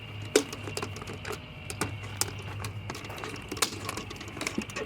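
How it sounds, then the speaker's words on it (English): Siding scissors snip through vinyl siding on a house in a quick series of short, sharp cuts, fairly close and moderately quiet against a low background hum. "Take my siding scissors."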